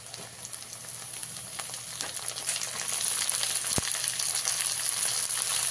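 Chopped water spinach (kolmi shak) hits a hot pan with green chillies, a steady crackling sizzle that builds louder and denser partway through, with a sharp clatter near the end and no talking.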